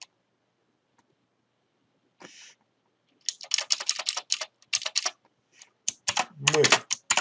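Typing text on a computer keyboard: after a short silence, close, crisp keystrokes come in quick uneven bursts with brief pauses between them, and no one speaks.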